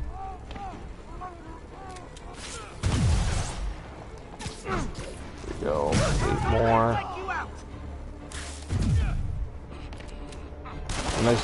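Enemy gunfire in Marvel's Spider-Man comes in sharp bursts amid whooshes and crashes of combat. The shots arrive in scattered loud clusters under a voice talking over the action.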